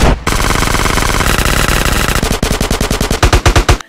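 Rapid, loud automatic gunfire from the Olympia shotgun in Call of Duty Black Ops Zombies, a continuous burst that breaks into distinct separate shots near the end, with a harsh synthetic game-like tone.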